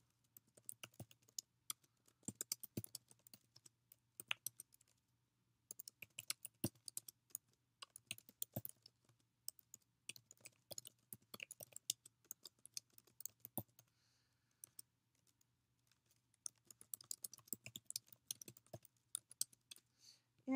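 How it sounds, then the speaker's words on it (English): Fingers typing on a computer keyboard, bursts of quick close key clicks broken by short pauses, quiet and alone with no talking. "So I'm going to start typing my post."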